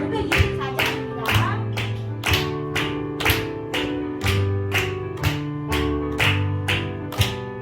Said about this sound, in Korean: 다음 찬양 손뼉 치시면서 부르실게요.